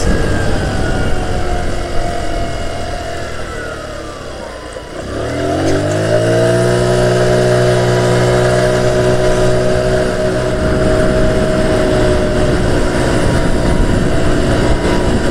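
A Revival 50 cc moped engine drones loudly on a long road ride, its pitch dipping midway and then climbing and holding a steady, buzzing note.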